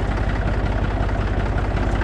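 The engine of a small farm tractor runs steadily at close range with a low, even chugging hum, and no voices are heard.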